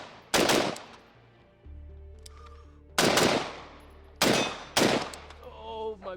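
A BRN-180 rifle on its unsuppressed gas setting fires four sharp, loud, snappy shots with uneven gaps between them, each followed by a brief metallic ring, over a low background hum.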